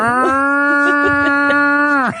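A person imitates a cow, holding a single loud, drawn-out moo close to the listener, with no other sound around it.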